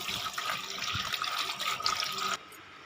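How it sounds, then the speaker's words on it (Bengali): Tap water runs steadily into a sink while a banana leaf is rinsed under it, a loud, continuous splashing rush that cuts off abruptly near the end. "একটু ভালো করে ধুয়ে নিই কলা পাতাটা"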